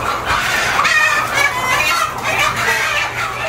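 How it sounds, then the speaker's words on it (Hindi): Many old hens cluck and squawk over one another in a dense, continuous chorus, close by, with a steady low hum beneath. "ये सारी ओल्ड चिकन है, ओल्ड हैन है।"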